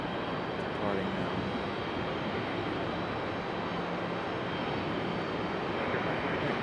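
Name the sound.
CRJ regional jet departing from Raleigh-Durham airport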